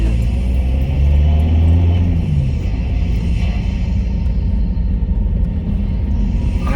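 VW T6 Transporter van driving with a quieter induction kit fitted, its engine a steady muffled rumble that rises briefly as it changes down gears, loud and constant with no one speaking.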